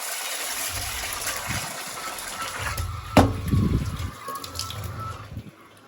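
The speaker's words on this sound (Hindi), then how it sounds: "तो इसमें पानी डाल देते हैं जी" Water pours into a cooking pot in a home kitchen, a steady gushing stream with a louder splash midway, then tapering off, with no talking.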